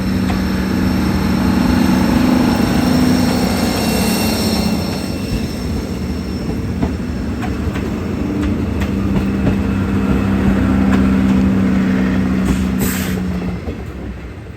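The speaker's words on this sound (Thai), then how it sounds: "ขบวน 39 เข้าสู่สถานีสุราษฎร์ธานีแล้วครับชานชลาที่ 3" A train rolls into Surat Thani station at platform 3 with a heavy rumble of wagons and drawn-out squealing wheels, loud and close throughout.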